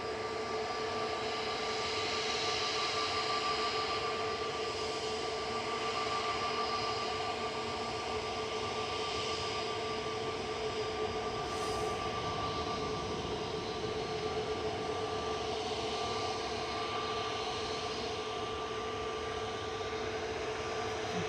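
Ryanair Boeing 737-800 climbing away from Manchester Airport after takeoff, a faint, steady low engine rumble with a faint whine layered on top, distant and unbroken throughout.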